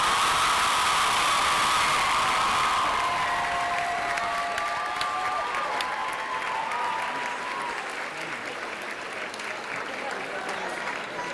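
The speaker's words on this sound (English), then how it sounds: "So I invite you now to recognize all of them with a round of applause." Sustained applause from a large crowd in a tent at a college commencement ceremony, a broad continuous wash of clapping that stays even and loud throughout, with faint tonal sounds drifting in the middle.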